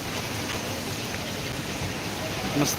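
Steady Mumbai monsoon rainfall patters continuously outdoors, a dense even wash of drops with a brief louder patch near the end.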